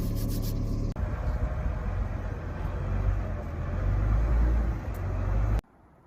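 A car's power steering pump whines beneath a steady, rumbling engine idle, sounding close and continuous for several seconds before cutting off abruptly.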